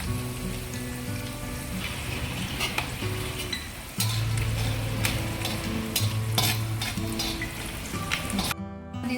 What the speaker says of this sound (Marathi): थोडासा कढीपत्ता घालणार आहोत। थोडासा हिंग घालायचा आहे।